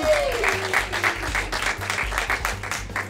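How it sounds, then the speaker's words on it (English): An audience at a Bond Street evening event applauds a guest, with steady, dense clapping filling the whole stretch over low background music, while a host's voice sweeps briefly in at the start. "Round of applause for Ruby, ladies and gentlemen."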